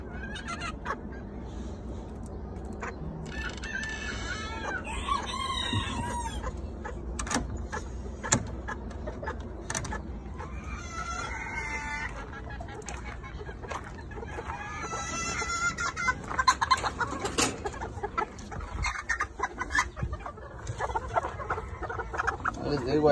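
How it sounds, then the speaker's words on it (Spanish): Chickens and a rooster in a coop with chicks under a heat lamp cluck repeatedly at close range, with occasional crowing and squawks breaking through; someone talks intermittently over the birds. "Ayer también a esta le quité a la Splash, le quité el pollito también, el pollito que tenía"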